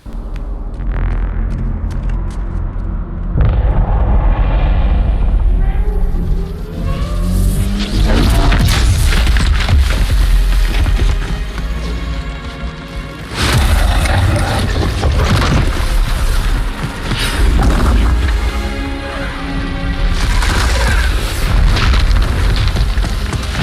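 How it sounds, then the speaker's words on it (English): Heavy explosions boom and roar in repeated waves as a Covenant fleet bombards a position in the video game Halo 2, loud rumbling blasts with sweeping whooshes and crackling debris and no talk. "The fleet is preparing to fire on our position."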